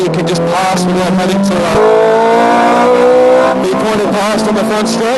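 A Ferrari F430 Scuderia at full throttle on a race track, its engine note climbing steadily through the gears along the straight, loud and close from inside the cabin while the driver keeps talking over it.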